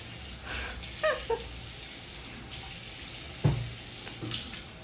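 Water spraying over a person at a university exam event, a splashing, tap-like gush heard in short bursts with brief voices and a small thud around it.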